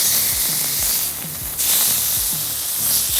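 Iberico pork sears on a hot grill with a steady, loud hiss and sizzle, close up and unbroken, while a low rhythmic thumping repeats beneath it.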